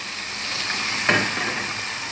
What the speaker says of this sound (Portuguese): A gente vai deixar fritar aqui um pouquinho